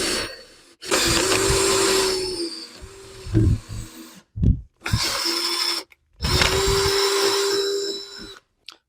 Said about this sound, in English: once the holes are drilled, we will show up again